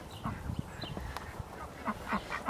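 Ducks kept in a backyard pen with chickens give a few soft, scattered quacks against a faint, steady outdoor background.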